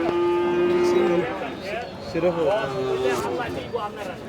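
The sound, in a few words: cow mooing at cattle market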